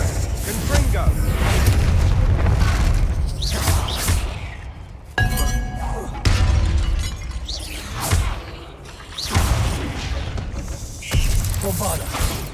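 Hogwarts Legacy's Confringo spell blasting objects apart, heavy booming explosions followed by shattering glass and clinking debris, several separate blasts across the stretch, with voices speaking between them.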